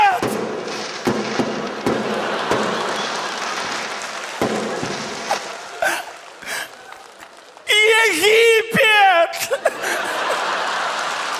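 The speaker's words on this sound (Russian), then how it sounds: "Салют!" Fireworks crackle and pop in bursts with sharp bangs, then a few whistling rockets shriek upward near the end amid background chatter.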